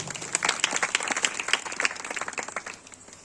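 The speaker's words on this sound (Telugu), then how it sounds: "నమ్మినోళ్ళు చప్పట్లు కొట్టాడు." Congregation in a church service in Ongole breaking into lively applause, many hands clapping in a busy, uneven patter that fades toward the end.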